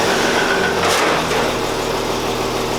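A hot rod engine with its muffler removed runs steadily on a dyno, giving a loud, constant, broadband roar with no talk over it.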